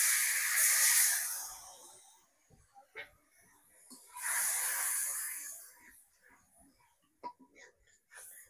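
Spices frying in a pan hiss as a little water goes in with salt, ginger and coriander leaves. Two loud bursts of steamy hiss rise and fade, followed by quieter scrapes and taps.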